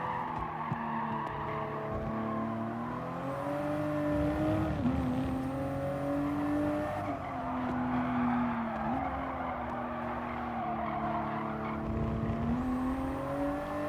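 A Toyota Supra road car races at Fuji in GT Sport, its engine droning steadily with rising and falling revs through gear changes, accompanied by intermittent tire squeal and skidding in a continuous close mix.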